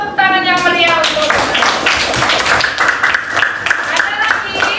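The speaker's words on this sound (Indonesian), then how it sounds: "Ayo kasih tepuk tangan yang meriah untuk." Classroom applause with children clapping together through a steady broadband patter, mixed with young voices chattering over it, during a lesson on building cube shapes.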